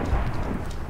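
In-game thunder during a UHC video game match gives a short, loud, low rumble that fills the brief moment alone.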